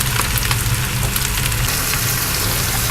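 Vegetables sautéing in a pan before shrimp and cashews go in, a steady loud sizzle and hiss that stays close and constant, with no voice over it.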